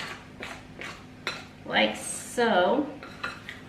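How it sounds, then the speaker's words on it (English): A spoon stirs batter in a bowl, knocking and scraping against its sides in quick, close strokes, while a voice speaks briefly over it. "just stirring it up"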